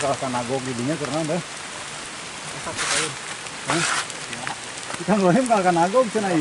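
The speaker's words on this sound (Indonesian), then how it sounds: "ini suasananya lagi hujan ya" Steady rain falls in a village, a soft continuous hiss beneath people chatting nearby.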